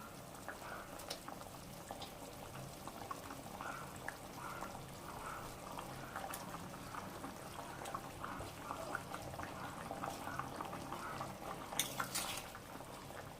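Boal river fish simmering in a thin curry broth with potato and bitter gourd, a quiet steady bubbling with occasional faint clinks of a pot and utensil close by.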